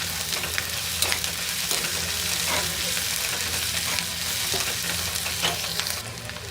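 Chopped green chillies and onion frying in a pan for aloo paratha filling, a steady close sizzle with occasional soft stirring scrapes throughout, no talking.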